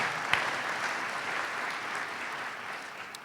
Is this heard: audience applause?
yes